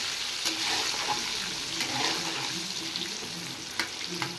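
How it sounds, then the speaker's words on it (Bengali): Potato pieces coated with turmeric and salt fry in hot oil, giving a continuous dense sizzle with a few soft stirring knocks, close and steady with no talking. "এই আলুটা ফ্রাই হতে হতে আমি মাংসের মশলাগুলো রেডি করে নিই"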